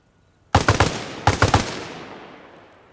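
Two close bursts of machine gun fire in Arma Reforger, each a quick volley of several loud rounds, the second following after a short gap and trailing off into a long fading echo.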